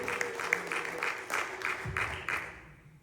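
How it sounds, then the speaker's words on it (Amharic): Rhythmic clapping from a church congregation at a Sunday service, a steady patter of many hands that fades out near the end. "ክብር ለጌታ ይሁንለት፣ እልልታ ይሁንለት፣ ጭብጨባ ይሁንለት።"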